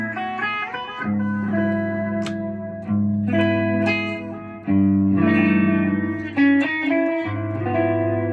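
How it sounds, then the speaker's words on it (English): Electric guitar notes and chords played through a Von Goon delay pedal, each phrase trailing echoing repeats that blur into the next, with no talking. "Delay pedal."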